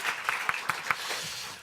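A church congregation gives a short burst of applause with a few distinct claps in a quick rhythm. It fades out within a second or two and sounds moderately close.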